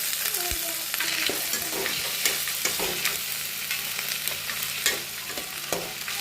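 Beans being sautéed in a pan give a soft continuous sizzle, broken by frequent scraping and clinking stirs of a spatula against the pan, close and fairly quiet throughout.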